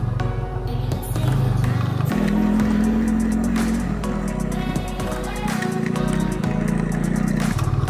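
A motorcycle rides a rough off-road mountain road toward Sittong near Darjeeling in the rain, its engine droning steadily and loudly, shifting pitch a few times as the rider works the throttle, with no voices.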